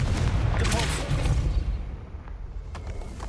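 Confringo explosive spell cast in the Hogwarts Legacy video game, a loud blasting burst with rumbling low-end booms and crackling debris across the start, fading into a lingering roar.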